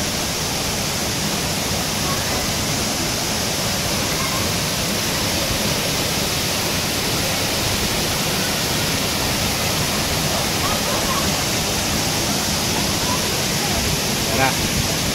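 A waterfall in Infanta, Quezon pours steadily as a broad, constant rush of water noise that holds at an even level throughout, with no break in the roar.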